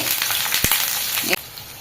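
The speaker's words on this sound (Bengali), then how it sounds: "ভাজা হয়ে গেছে আদা রসুন বিছিয়ে দিলাম" Ginger and garlic fry in a pan with a steady close sizzle, broken by a brief clatter of stirring near the end, with no talking.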